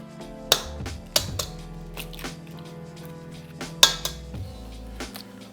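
Wet squishing and scraping of a meatball mixture being mixed by hand in a bowl before the egg goes in, with a few sharp clicks and soft slaps against a steady low hum, no talking.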